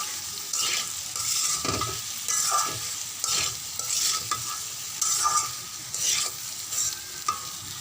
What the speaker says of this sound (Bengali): এইভাবে কড়াইয়ের মধ্যে ছড়িয়ে দেবেন যেন সুন্দর করে ভাজা হয়।